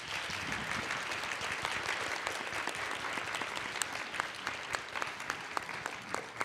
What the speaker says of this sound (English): Can we give these wonderful women a round of applause?